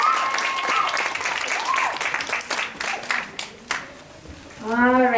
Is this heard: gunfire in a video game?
no